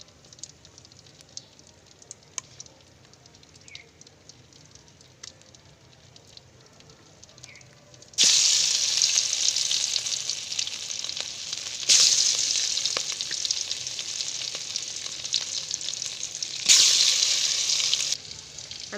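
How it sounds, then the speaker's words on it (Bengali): Fish pieces added one by one to hot oil in a pan, a faint quiet start giving way to loud, bright sizzling frying that swells in three surges as each piece goes in, close and continuous with no talk. "আমি এক এক করে সবগুলো মাছ দিয়ে দিলাম। এটা ভাজা হলে আমি উল্টিয়ে দেব।"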